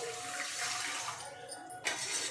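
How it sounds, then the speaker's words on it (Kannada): Water pours from a cup into a cooking pot holding sugar, a short, close, steady splashing stream that cuts off abruptly near the end. "1 ಕಪ್ಪು ನೀರನ್ನು ಹಾಕಬೇಕು."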